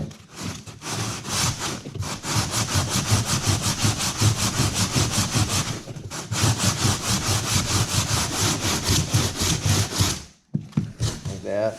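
Foam bulkhead of a homemade 11 ft foam-and-fabric K6 kayak being sanded by hand, giving steady rhythmic rasping strokes that run close and loud for about ten seconds with one brief pause midway.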